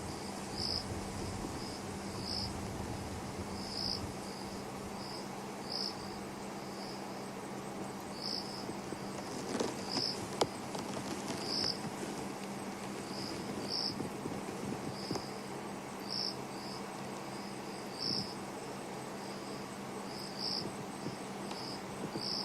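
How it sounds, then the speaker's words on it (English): A cricket in the African bush at night gives a steady series of short, evenly spaced chirps from somewhere off to one side, moderately near, over a low hum and faint background night noise. "it's just us and the night sounds, and that cricket that is somewhere to the left of us"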